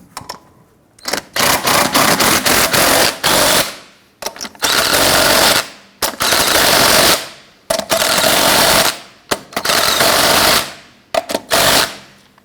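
Pneumatic impact wrench snugging lug nuts on a 1999-2004 Jeep Grand Cherokee wheel, loud rapid hammering bursts of about one to two seconds each, repeated many times with brief gaps, close up.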